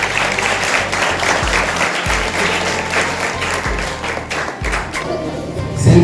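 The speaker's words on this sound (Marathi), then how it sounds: "जोरदार टाळ्या." Sustained audience applause at a retirement ceremony for a non-teaching staff member, many hands clapping steadily and loudly throughout, with a brief louder swell at the end.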